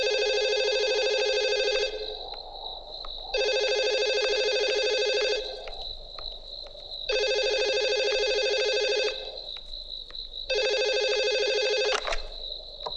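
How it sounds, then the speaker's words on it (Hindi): A telephone rings in four evenly spaced bursts, each a loud electronic trill lasting about two seconds, separated by short quiet gaps, close by and with no one speaking. "ये बार बार यहां फोन काहे को करता है?"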